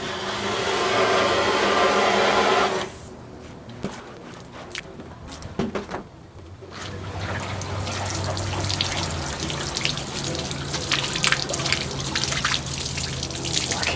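Water rinses and sloshes inside a Mazda RX3 fuel tank under restoration, a loud continuous rushing at first, then a softer, irregular trickling and splashing that builds again, close by with no talking.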